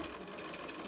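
A sewing machine stitches around the corner of a zipper pouch in one short, steady mechanical whir, close and moderately loud, with no voice over it.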